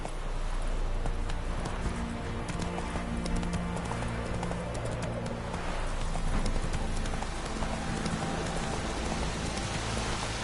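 A horse gallops in The Witcher 3 with steady clip-clop hoofbeats under a constant wash of rain, the hooves moderately near and continuous for the whole stretch, no clear speech.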